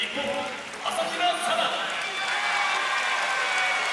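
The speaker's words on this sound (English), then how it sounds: "And the audience is applauding" An audience at the 2019 World Judo Championships applauds, a steady wash of clapping from a large indoor crowd that carries on evenly for several seconds.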